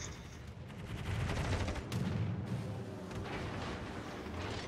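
Naval guns firing in a warship battle game, a steady barrage of deep booming shots rolling one into another with low rumbling blasts throughout, loud and continuous with no talking.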